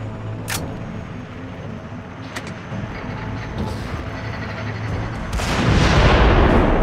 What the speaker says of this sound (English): Take control of the mortars and use them to blow the barricade.